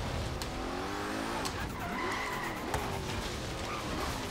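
A car in a racing video game drifts with sustained tire squeal and skidding over a revving engine, the screeching loud and continuous with shifting pitch and no talk.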